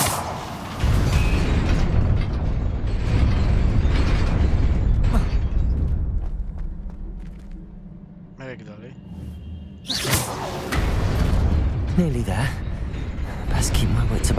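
The Incendio fire spell cast in the Hogwarts Legacy video game, with booming, roaring bursts of flame over a rumbling backdrop, loud and close, interrupted by a quieter stretch and accompanied by talking.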